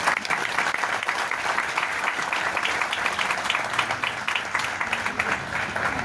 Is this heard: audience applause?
yes